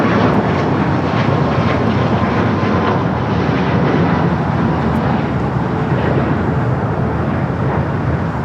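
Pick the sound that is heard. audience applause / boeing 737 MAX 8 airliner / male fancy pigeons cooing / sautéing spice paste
boeing 737 MAX 8 airliner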